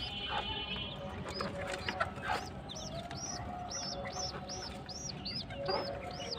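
Domestic pigeons feed a single chick, which gives a rapid run of thin, high repeated cheeps, faint and close, over a steady low background noise.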